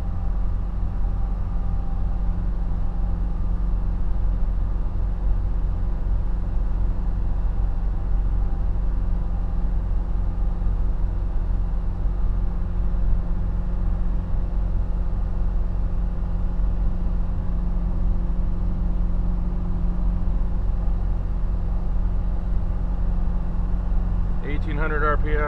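Heavily loaded truck in 10th gear at about 1700 RPM, southbound on I-77 near Fancy Gap, Virginia: a steady, loud, low diesel drone throughout with continuous road rumble, ending in a brief higher rattle.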